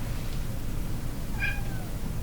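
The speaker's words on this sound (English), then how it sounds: "Cat has come up to assist with the situation." A single short cat meow, fairly close, rising then falling, over a steady low hum in an indoor room with no talking.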